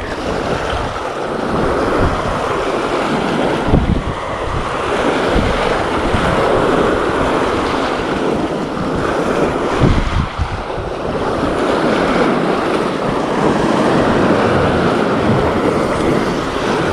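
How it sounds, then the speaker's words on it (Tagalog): Big ocean waves break and roll continuously at a fishing spot, loud and close, with heavy wind buffeting the microphone and surging wash throughout. "Malalaki ang alon."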